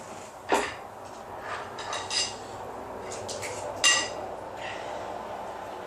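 Utensil clinks and scrapes sound against a plate while meat is mixed with ketchup, a few sharp taps standing out over faint room noise.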